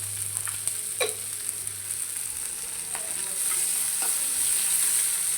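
Oil sizzles steadily in a pan as onions fry, a constant close hiss with a few soft stirring clicks, growing slightly louder toward the end; no one speaks.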